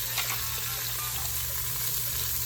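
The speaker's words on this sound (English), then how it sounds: "Just gonna add those in and stir it up. I still have my pan on a high heat" Sausage with green and orange peppers and onions fries in a pan on high heat, giving a steady, close crackling sizzle with a low hum beneath and a few faint stirring taps, no talk.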